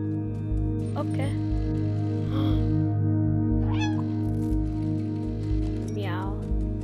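A cat in the game Stray gives several short meows spaced a second or so apart, over a steady musical hum; a voice joins in with brief sounds.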